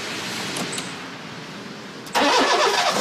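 A Fiat car engine with a fault in its ignition coils is cranked and caught by a roadside breakdown mechanic, a brief starter whir followed by a sudden loud catch into a running engine at close range.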